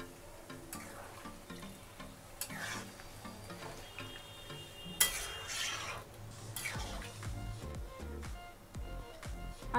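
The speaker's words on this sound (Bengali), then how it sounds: "এবার ভালো করে মিশিয়ে নেব।" Soybean and potato curry stirred in a pan after hot water is added. A spoon clinks and scrapes against the metal in irregular strokes, with a faint low simmer underneath and no voices.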